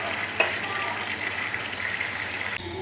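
Chicken meat with spices frying in a pan, a steady, moderately quiet sizzle that holds evenly throughout, with a small clink near the start and a soft shift near the end.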